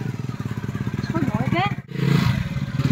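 A KTM motorcycle engine idles and revs with a steady low throb and brief rising bursts, close by, broken by a short cut-out before picking up again; people talk over it.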